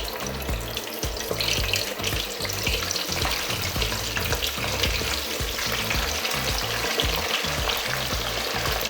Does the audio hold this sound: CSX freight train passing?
no